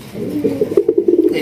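Pigeons coo at a pigeon farm, a series of soft low rolling calls pulsing close by over a faint rustling background.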